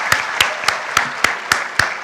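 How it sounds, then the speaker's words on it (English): A crowd at a commencement ceremony applauds over a steady rush of clapping, punctuated by regular sharp claps about every quarter second, loud and close. "Give yourselves a round of applause."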